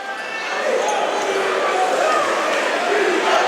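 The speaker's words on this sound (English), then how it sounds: "The fans, Cherokee, starting to get a little louder with 4 minutes here to go." Home fans of Cherokee cheer and roar steadily through the final minutes of the Atlantic City vs. Cherokee South Jersey Group IV high school basketball final, a loud, continuous gym crowd swelling slightly over the whole stretch.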